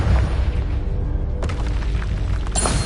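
A Confringo spell explosion in a Hogwarts video game: two heavy booms, a deep blast near the middle and another shortly before the end, over a dense, continuous rumbling background.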